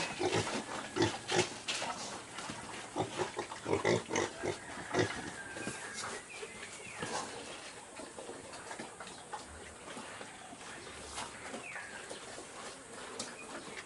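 Month-old piglets on a small farm grunt in short, scattered bursts up close, busier at first and thinning out later, with faint ticking and bird calls in the background and no talk.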